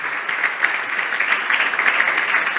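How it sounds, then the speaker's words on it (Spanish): Steady church congregation applause during a sermon, dense clapping sustained throughout at a constant loud level, with no pauses. "dale un aplauso"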